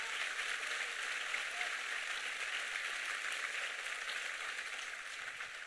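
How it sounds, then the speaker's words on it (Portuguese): A church congregation applauds during a Sunday morning service, a steady, even wash of clapping that holds at a moderate level the whole way through with no voices on top. "Aplauda o Senhor forte,"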